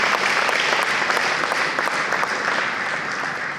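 A full audience applauds a young boy and his mother at a heroes award ceremony, with dense, steady clapping that holds for several seconds before easing slightly toward the end.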